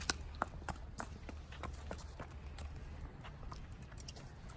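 A horse's hooves clip-clop as it is walked outdoors in Iowa, a run of irregular, fairly faint hoof strikes with a low background hum and no talking.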